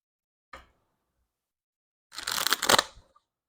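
Tarot cards handled and shuffled close by: a brief crisp snap, a pause of silence, then a louder burst of rapid papery riffling lasting about a second.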